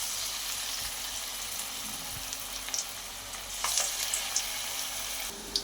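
Moong dal pakoras fry in hot oil with a bright, steady sizzle, close and continuous, with a few soft bumps and spatters as batter drops into the pan and no talk.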